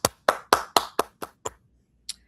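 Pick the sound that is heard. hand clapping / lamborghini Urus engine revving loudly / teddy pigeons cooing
hand clapping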